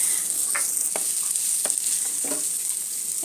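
Hot oil sizzles steadily in a heated pan while a Kerala-style prawn chammanthi is being made, with a constant bright hiss broken by a few soft clicks and stirring taps, close and continuous.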